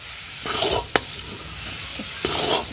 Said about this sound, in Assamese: একেৰাহে লৰাই থাকিব লাগিব, তেতিয়াহে গুৰটো পাক উঠিব।